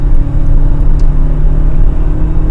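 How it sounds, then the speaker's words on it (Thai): A Mercedes-Benz W210 E200 Kompressor accelerates in sport mode, its engine a loud, steady low rumble heard from inside the cabin with no talk. "ให้ดูอัตราเร่งนะครับ"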